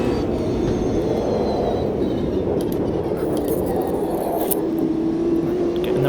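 A race car engine in the sim racing game Automobilista 2 drones steadily throughout, its pitch slowly rising and falling with gear and speed, loud and continuous with faint tyre and wind noise.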